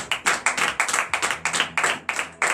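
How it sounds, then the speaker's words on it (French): Church congregation clapping hard during a morning prayer service in Benin, a rhythmic run of loud, quick hand claps with a few accented bursts, steady and close throughout. "Donc je vous demande d'applaudir très fort."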